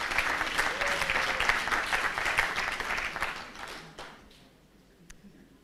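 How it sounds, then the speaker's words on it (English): A graduation crowd in Kampala, Uganda, breaks into loud, dense applause that holds for about four seconds, then fades to a few scattered claps. "Will you give yourselves a loud applause?"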